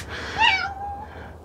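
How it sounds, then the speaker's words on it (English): A domestic cat lets out a single clear, close meow with a rising then long falling tone, followed by quiet room ambience. "She's a talky cat."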